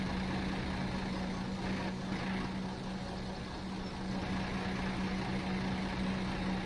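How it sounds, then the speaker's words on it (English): A tractor engine in Farming Simulator 17 runs steadily in reverse, a constant droning hum with a rough mechanical texture, close and unbroken throughout with no talk. "we'll reverse the tractor up a bit"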